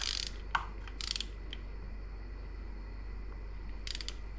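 A torque wrench ratchets in short bursts of clicks while tightening an oil-change bolt to 7 foot-pounds on a 2016 Yamaha YZ250F, with a quiet pause between the bursts.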